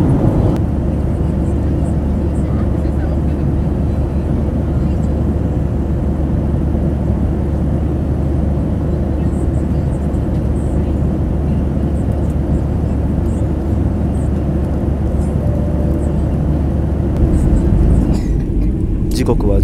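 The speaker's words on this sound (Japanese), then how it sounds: "最終の着陸態勢に入りました。 まもなくエジプトカイロ国際空港に着陸です。" Steady low roar of an EgyptAir airliner cabin on final approach into Cairo International Airport, a constant loud engine and air rumble that changes slightly near the end.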